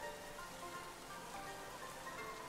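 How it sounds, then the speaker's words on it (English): Steady, even rain sound effect from the Rain Dance move in the Pokemon Scarlet & Violet video game, a dense hiss of falling drops that holds at a constant level throughout, with no voices. "Maybe that's why it's so rainy in this world, because everyone's using Rain Dance unnecessarily."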